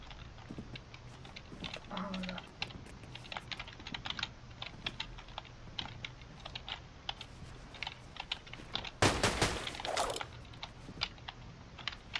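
A computer keyboard clatters with quick, irregular keystrokes during a Fortnite session, the clicks close and continuous with a louder burst of rapid typing near the end.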